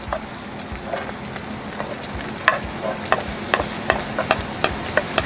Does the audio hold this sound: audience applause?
no